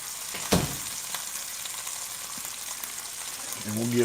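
Onions frying in butter and olive oil, a soft steady sizzle with a sharp clack of a utensil near the start and a brief voice at the end.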